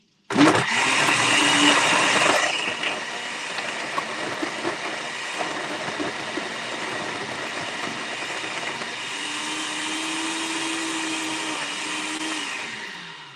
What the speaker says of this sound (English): Here we go with the blender.